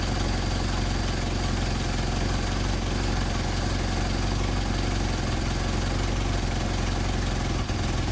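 A Mercedes 190SL engine with Solex carburetors idles steadily at close range, a constant low rumble with slight vibration and no break or change in pace.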